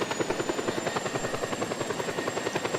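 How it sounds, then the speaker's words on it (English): A helicopter's rotor thumps in a fast, even rhythm, loud and close, flying in the video game Just Cause 2 with a thin high whine riding on top. "I'm trying to fly this helicopter forwards and it's going up"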